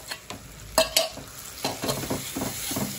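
Spices and a small raw banana are stirred in a frying pan for a vegetable curry. A spoon scrapes and clacks close by in quick irregular strokes over a soft, steady sizzle.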